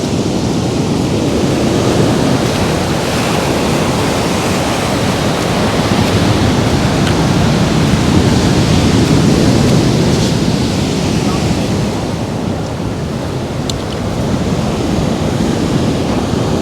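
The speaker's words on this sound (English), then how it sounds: "But the waves, some of these, oh look at that, that is huge." Large ocean swell surges and crashes onto the shore at Murchison Station near Kalbarri, Western Australia, making a loud, continuous roar of surf with gusty wind across the microphone.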